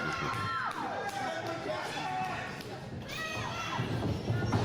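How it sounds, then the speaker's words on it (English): A wrestling arena crowd cheers loudly for Jastin Taylor during an elimination match, a continuous roar with whoops and shouts, thumps from the ring, and a commentator's voice mixed in. "Jastin Taylor, he's firing this crowd up."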